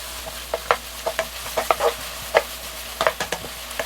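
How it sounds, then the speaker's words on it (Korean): Thinly sliced green onions are stir-fried in a pan at close range, with a soft sizzle under irregular sharp scrapes and taps of a spatula, and no talking. "아까 송송 썰어놓은 대파를 팬에 넣고 먼저 향이 나도록 볶아줄 거예요."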